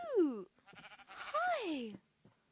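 A small sheep in the video game Minecraft bleats twice, close and clear, with a brief faint sound trailing after; no talk over the cries.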